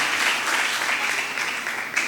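Church congregation clapping loudly and continuously for a couple of seconds, a full, close wash of applause with no break.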